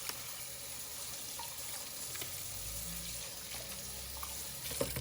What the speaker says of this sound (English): Running water really does help.